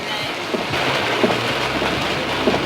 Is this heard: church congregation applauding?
no